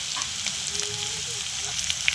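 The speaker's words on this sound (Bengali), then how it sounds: "কড়াতে গোটা জিরে দিয়ে দিলাম, সবজিগুলো দিয়ে দিলাম" Whole cumin, vegetables, salt and turmeric sizzle in hot oil in a wok, a steady close frying hiss with light stirring scrapes throughout and no talk.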